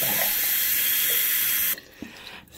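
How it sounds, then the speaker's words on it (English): Very warm tap water runs loudly in a steady hiss while hair is rinsed, then stops abruptly, leaving quiet room sound with a soft thump. "I'm going to rinse this out now, and I'm using very warm"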